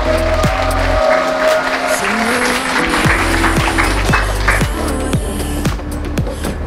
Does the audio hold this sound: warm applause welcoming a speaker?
yes